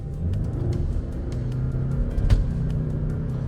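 A Toyota Crown Signia hybrid SUV accelerates with a steady, smooth engine hum and low road rumble, heard from the cabin at moderate level without talking.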